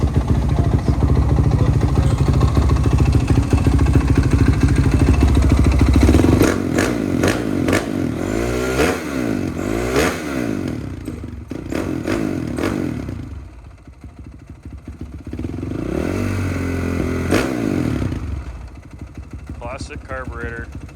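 A Honda CRF450R single-cylinder engine from a 2006 bike, mounted on a three-wheeler trike, idles with a steady rattling putter, then revs up and down in rising and falling sweeps while people talk nearby.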